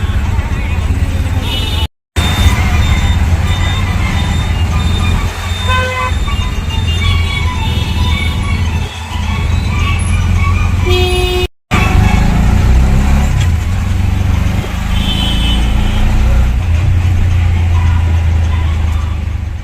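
Busy road traffic heard from inside a moving auto rickshaw: a steady engine rumble and road noise with scattered car horns tooting nearby, continuing throughout with two brief dropouts.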